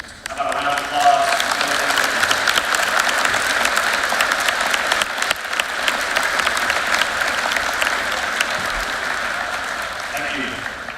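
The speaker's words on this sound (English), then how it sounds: "How about a round of applause?" A high school assembly audience applauds at length in a large hall during a Veteran's Day program, steady dense clapping that holds evenly for the whole stretch with a faint crowd murmur underneath.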